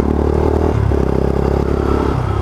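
A motorcycle engine revs hard and cuts at the rev limiter, close and loud, outside a motorcycle shop, with a steady buzzing drone and small clattering mechanical noise throughout.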